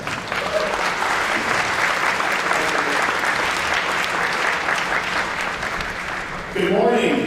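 Steady, loud applause fills a large hall at a programming contest finals as a speaker is called to the stage, continuous crowd clapping with a voice emerging at the end.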